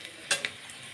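Chopped onion and green chili fry in a pan with a soft hiss and a couple of sharp spatula clicks over about a second.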